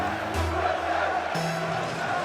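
Arena crowd at the Rocket League World Championship roaring right after G2's Atomic scores the series opener, a loud, continuous wall of cheering with a second swell about midway through.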